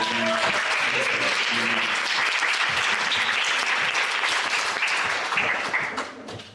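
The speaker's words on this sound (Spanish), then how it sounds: "también un aplauso, por favor" Audience applause at the closing of a community panel on social cohesion, security and coexistence, with dense, steady clapping filling the room for several seconds before tapering off at the end.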